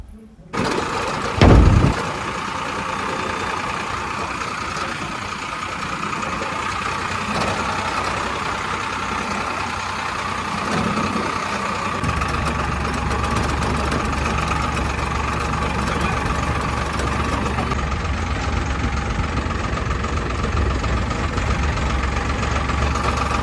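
A tractor engine idles loud and steady throughout, a continuous low rumble on the way to a tractor wash, with people talking over it.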